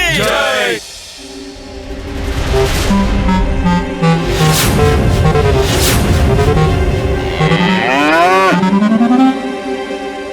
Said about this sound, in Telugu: ఎద్దు మా దర్బారులోనా